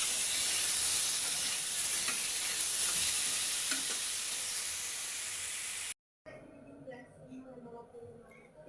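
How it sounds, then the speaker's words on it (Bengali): Potatoes frying in a pan for a village-style biryani, a strong, steady hissing sizzle up close for about six seconds before an abrupt cut to quieter sounds with a voice. "চলুন আলুগুলো ভেজে নিয়ে তারপর আবার চলে আসতেছি।"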